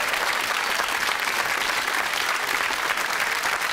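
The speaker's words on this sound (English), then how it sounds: "A huge cheer if we can." A television quiz-show studio audience cheers and applauds loudly and steadily throughout, a dense wash of clapping with no talk over it.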